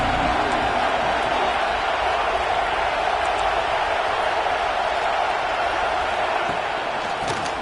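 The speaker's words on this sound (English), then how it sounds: "Third down. Red zone play. Crowd alive." A stadium crowd in the Madden 26 football video game keeps up a constant dense roar of cheering during a third-down red zone play, loud and unbroken throughout.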